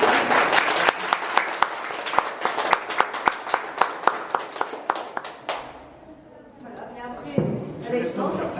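Applause at a photo art exhibition opening rings out as a crowd claps for the artist, sharp individual claps fading out midway before a voice begins speaking.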